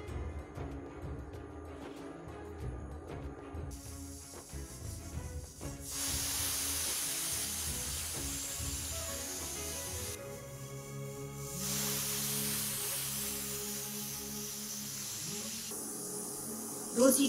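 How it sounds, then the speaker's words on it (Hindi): Pressure cooker cooking dal on a gas stove lets out long, loud hissing steam whistles, two extended bursts over a low bubbling background, close by with no talking. "दो सीटी आ चुकी है,"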